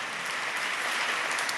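Audience at a live-streamed church talk breaks into applause: an even, dense wash of many hands clapping, steady and moderately loud, with no voices over it.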